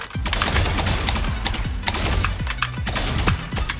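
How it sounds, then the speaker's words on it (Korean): Rapid automatic gunfire from the RGX Phantom rifle in Valorant, a fast, even burst of shots with a wet, watery, splashy character, loud and continuous across the whole stretch. "약간 총소리가 약간 물소리 나는데요?"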